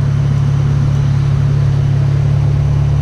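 A turbocharged car making about 320 horsepower runs on a dyno for a base pull, giving a loud, constant engine drone with a strong low hum that holds steady throughout, with no voices.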